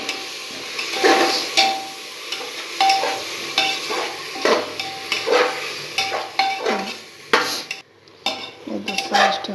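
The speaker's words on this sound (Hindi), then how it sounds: "टमाटर और दाल को डालते हैं" Tomatoes and lentils frying in a pan for a masala khichdi, with a steady sizzle under repeated stirring scrapes and clinks of a utensil against the pan, close and fairly loud, no talking.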